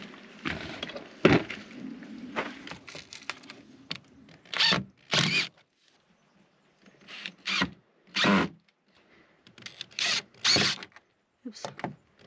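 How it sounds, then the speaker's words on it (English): A drill bores into wood during an outdoor building project beside a tree, in several short, loud, separate bursts with quiet gaps between them. "do you want to drill and I'll hold?"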